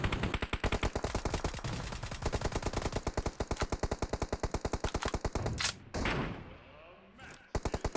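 Rapid automatic gunfire from a VSS sniper rifle in PUBG Mobile, a fast regular stream of loud close shots with brief breaks and a short burst at the end.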